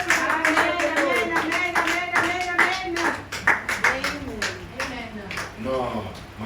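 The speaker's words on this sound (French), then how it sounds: "you please applaud for the glory of the Lord?" Rhythmic hand clapping from a church congregation runs steadily under a prominent voice speaking and calling out over it.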